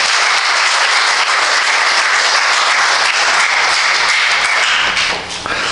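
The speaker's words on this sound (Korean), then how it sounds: "목사님 뜨거운 박수로 환영하겠습니다" Warm, loud applause fills a church at a Sunday evening service as the congregation welcomes the pastor to the pulpit: dense clapping from many hands that holds steady, then eases off near the end.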